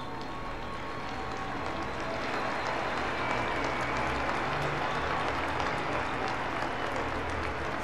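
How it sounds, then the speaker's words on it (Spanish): Stadium crowd at an Ecuador versus Italy football match applauding during a tribute moment; sustained, dense clapping swells after the first couple of seconds and holds steady and loud to the end. "En un momento de silencio y aplauso."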